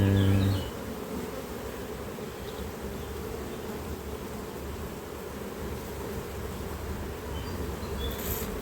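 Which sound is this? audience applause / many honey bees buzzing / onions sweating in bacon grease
many honey bees buzzing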